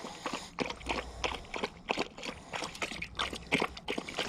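A dog laps water from a bucket at a natural sandstone water catchment in the desert, quick wet slurping laps in a steady rhythm, close and clear.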